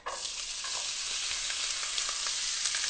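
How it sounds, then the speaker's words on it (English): Finely minced onions sizzle in olive oil in a pan, a loud, continuous bright hiss with faint crackles and no pauses. "I'm going to add a tiny bit more, not much, and in with the onions."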